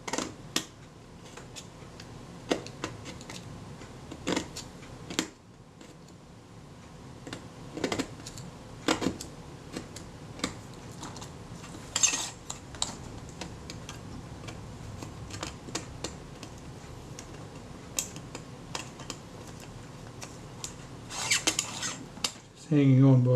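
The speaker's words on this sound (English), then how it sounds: "scraping my scalpel down between the metal and the leather" Scalpel scraping and ticking as the blade works down between a Retina IIa camera's metal body and its leather covering, a run of close, small clicks and scratchy strokes repeating irregularly throughout.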